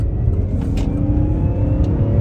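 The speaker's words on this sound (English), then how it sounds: "You barely touch your toe on the throttle and it just jumps, you know. Just very responsive engine." A 2002 BMW 540 M Sport V8 engine pulls under light throttle, a steady, smooth mid-pitched drone heard from inside the cabin, continuous and unbroken with no talk over it.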